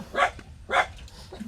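A dog barking, two close, clear barks about half a second apart. Faint background noise sits between them.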